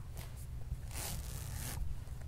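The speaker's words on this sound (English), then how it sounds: "The really nice big zipper." A large coat zipper being pulled in short, quick strokes, close and fairly quiet, with faint rustling of fabric.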